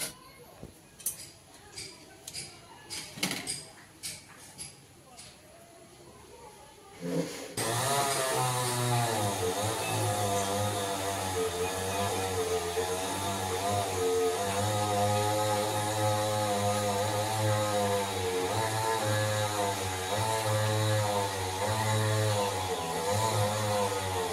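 After a few seconds of scattered clicks and taps, a chainsaw roars in nearby, droning loudly and continuously with a wavering pitch as it cuts a tree.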